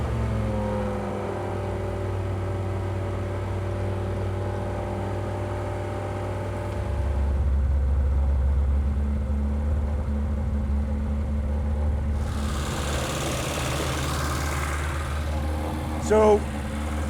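A previously abandoned car's engine idles nearby with a low, steady rumble that shifts tone partway through, while a person talks over it and a brief knock sounds near the end.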